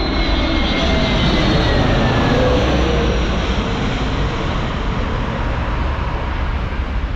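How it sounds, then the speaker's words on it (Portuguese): A low-flying airplane landing at an airport over a busy São Paulo avenue, a loud continuous engine roar and rushing noise that fills the whole stretch with no speech. "grava mais um avião pousando aqui"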